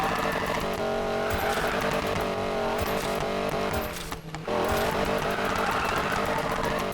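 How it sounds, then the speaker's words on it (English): A Ford Mustang drift build in Need for Speed Payback screams near its rev limiter, a loud sustained engine howl with rapid stuttering cuts and a brief dip before surging again. "See what I mean about the rev limiter?"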